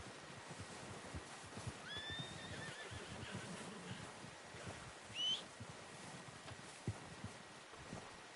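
A horse in a PS4 video game neighs in two rising whinnies over soft clip-clopping hooves and wind-like ambience, moderately loud and alone without talk.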